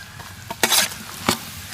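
Chopped onions stirred into chicken hearts frying in a large pan in an outdoor village kitchen, with a low sizzle and three sharp scraping stirs close by, no voices.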